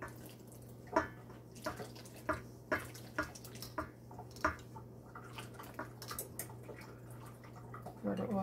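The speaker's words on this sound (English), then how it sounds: "And we're just going to pour this in." A liquid mixture is poured into flour for a Jamaican ginger bulla cake, making a soft, splashy trickle with small dripping taps over a steady low hum, all at a fairly quiet level.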